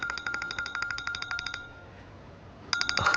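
A phone rings in repeated electronic bursts at a birthday dinner toast, pausing briefly before ringing again, fairly loud and close with no talk over it.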